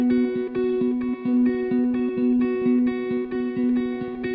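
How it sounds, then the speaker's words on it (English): Simple layered guitar arpeggio pitched up an octave within a sleepy lo-fi beat built in FL Studio, repeating plucked notes in an even loop over soft percussive hits, moderately loud and without voices. "so I added another really simple guitar arp that just sounds like this to add to the layering"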